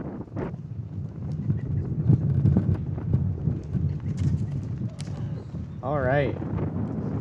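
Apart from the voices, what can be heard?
wind blowing outdoors at a flag raising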